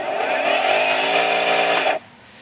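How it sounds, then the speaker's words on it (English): A homemade electric skateboard driven by Turnigy SK3 350 kV brushless outrunner motors whines loudly with a rising pitch as it speeds up, then cuts off abruptly under hard braking, leaving quiet. "So here, I'll show you going really fast and then braking."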